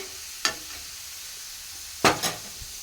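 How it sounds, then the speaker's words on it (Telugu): Potatoes frying in a pan: a soft, steady sizzle runs throughout, broken by a few quick scraping stirs, one near the start and a pair close together near the end. "బంగాళదుంపలు అయితే కలర్ చేంజ్ అవ్వడం స్టార్ట్ అయింది ఇలా వేగేటప్పుడే"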